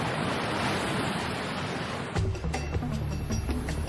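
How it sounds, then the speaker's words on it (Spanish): Wild sea surf crashes against volcanic rocks on the Tenerife coast, a loud, continuous roar of breaking water that changes partway through into a choppier, rumbling wash with wind noise. "Mar salvaje contra piedras volcánicas"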